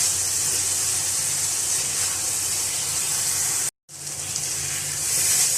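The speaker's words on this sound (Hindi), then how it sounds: "मिक्स करेंगे और मसाले को अच्छा सा भून लेंगे" A spice mix of fennel and ground pomegranate seed roasts in a hot pan, giving a steady loud sizzle and hiss that cuts out briefly and then resumes.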